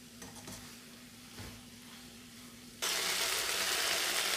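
Chicken 65 being stirred with soy sauce in a hot pan, quiet sizzling with a few scraping strokes, then an abrupt jump to a loud, hissing fry.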